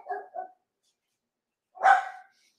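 Dogs barking inside a house, a pair of quick yaps followed after a pause by one louder bark that echoes in the room, nearby and otherwise quiet.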